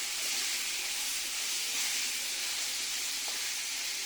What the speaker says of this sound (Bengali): সুন্দর করে মাংসটাকে কষিয়ে নেব।